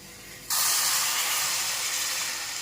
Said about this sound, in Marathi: त्यातच आता आपल्याला गरम पाणी टाकायचं आहे भाजीमध्ये